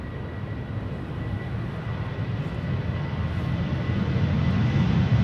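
A Martinair cargo jet flying for KLM Cargo moves at Amsterdam Schiphol, its engines a continuous rumbling roar that grows gradually louder over several seconds with no voices.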